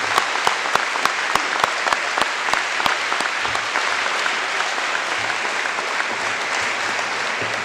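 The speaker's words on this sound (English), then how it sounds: "Let's give one more big round of applause to our orchestra" A high school graduation crowd applauds the school orchestra, band and choir with loud, continuous clapping, a few sharp individual claps ringing out near the start before blending into a steady roar.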